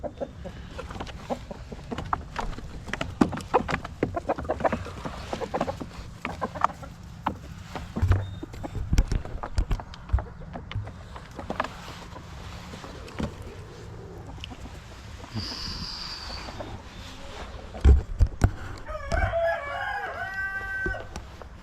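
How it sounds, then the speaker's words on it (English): Backyard chickens let out of their coop cluck and shuffle about with scattered knocks and bumps, and a rooster crows clearly near the end, fairly close. "I'm gonna let the chickens out here"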